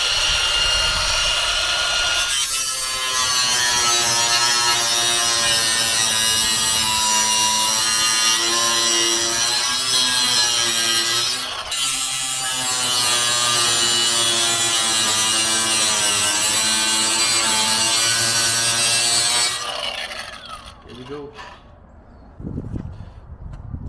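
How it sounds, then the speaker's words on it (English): A loud, steady power-tool cutting whine runs continuously for most of the clip as small metal ends are cut off on a Chevrolet Silverado to fit a transmission cooler, then cuts off near the end, leaving a few faint clatters. "we're gonna have to cut these little ends off to fit the transmission cooler"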